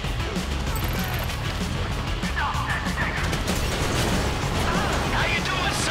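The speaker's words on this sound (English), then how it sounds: "You hear that gunfire?" Gunfire in the video game GTA V during the Paleto Bay heist: dense, continuous bursts and pops of shooting fill the whole stretch, mixed with chaotic game noise and voices talking over it.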